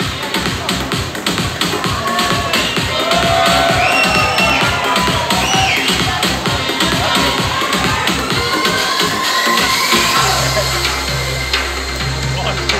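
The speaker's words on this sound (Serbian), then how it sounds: "Još jedan aplauz za naše momke" An MMA event crowd applauds and cheers in a dense, sustained roar of clapping with whistles rising through it. A low steady hum enters near the end.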